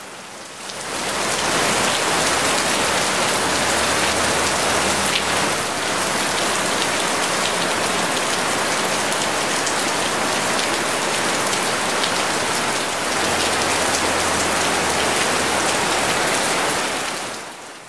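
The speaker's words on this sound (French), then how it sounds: "une première averse tropicale m'offre toute une nouvelle expérience de la pluie" A tropical downpour in Ubud, Bali, pours as a steady, dense hiss of rain on surfaces, loud and continuous from start to finish with no voices.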